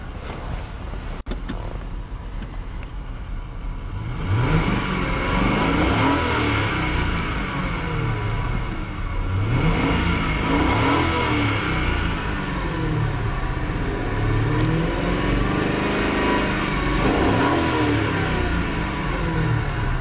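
Engine of a 2003 Lincoln Town Car Cartier limousine with a 4.6 modular V8, idling then revved repeatedly, each rev rising and falling in a steady rhythm, loud and close with no talk.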